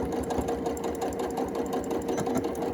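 Stitching a pin cushion seam, a sewing machine runs in a steady, close, fast rhythmic whir with an even mechanical chatter throughout.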